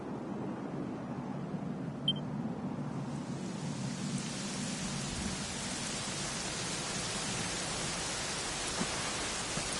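Steady rain falls in the video game Dragon Quest XI at the ruins of Fordrasil castle, a quiet even hiss that thickens after the first couple of seconds and continues without pause.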